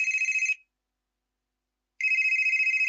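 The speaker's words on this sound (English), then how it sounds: "So you were just sitting there, and then your phone rang." Telephone ringing with an electronic warbling ring tone, two bursts separated by a pause of about a second and a half, clear and close with no talk over it.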